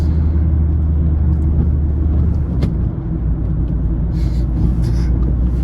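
A Mazda 3 diesel heard from inside while driving, a loud, steady low engine drone and road rumble holding constant, with a faint click partway through and no talk.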